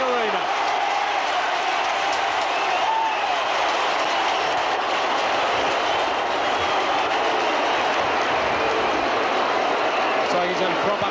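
A large football crowd at the 1987 VFL preliminary final, Hawthorn versus Melbourne, roars as Robbie Flower returns to the ground: a loud, unbroken wall of cheering with commentary faintly underneath.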